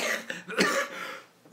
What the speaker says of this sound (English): Still, I got this bloody cough.